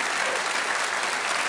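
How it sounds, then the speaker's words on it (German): A cabaret audience applauds steadily in a dense, even wash of many hands, close and loud for a short burst with no voices on top. "Ja, Sie klatschen, nicht wahr?"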